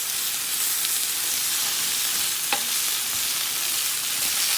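Root beer barbecue ribs sizzle and fry in a non-stick grill pan, a steady close crackling hiss with a single brief clink partway through.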